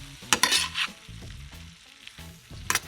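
Saltfish and cho cho are stirred in a pot, Jamaican style. A few close scraping strokes of a spoon come over a soft sizzle, with quiet gaps between them.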